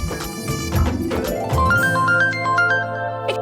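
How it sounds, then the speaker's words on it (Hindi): A mobile phone ringtone plays a repeating, stepping electronic melody, loud and close, over a busy musical background in an office. "किसका फोन बज रहा है?"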